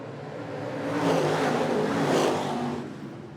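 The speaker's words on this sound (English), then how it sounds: "as our latest group of Crate Late Models hits the track" Crate Late Model race cars roar onto the track at the start of a heat race at a speedway, a dense engine rumble swelling and peaking twice as the pack passes, with no talk.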